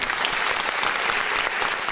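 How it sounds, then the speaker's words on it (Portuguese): A small studio audience gives steady, energetic applause for a guest being introduced on a podcast, the clapping close and continuous without speech over it. "Palmas para ele"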